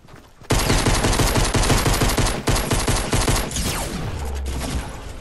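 Pistol gunfire in a pistols-only shooter video game match, a loud, dense, rapid stream of shots firing nearly continuously for several seconds after a short lull, close and alone.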